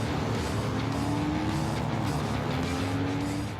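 Hobby motorcycles race on a track at the start of a fun race, engines droning loudly together with rising and falling revs as bikes pass.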